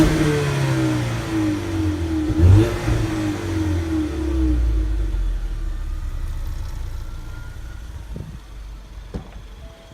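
A 2018 Ford Mustang EcoBoost fastback with its turbocharged four-cylinder revved loudly nearby, climbing through a sharp rev then dropping back toward idle and settling quietly.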